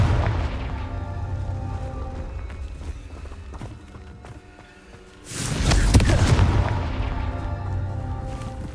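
Confringo blasting spell explosion in Hogwarts Legacy: after a low, rumbling game backdrop dips quieter, a loud burst erupts and settles into a sustained roaring rumble, with no speech.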